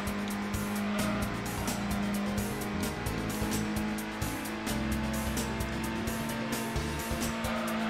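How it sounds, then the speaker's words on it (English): Racing car in Gran Turismo 1 on PlayStation, a loud continuous engine drone with shifting pitch as gears change, layered with tire squeal through corners. "This is Gran Turismo 1, Tucker."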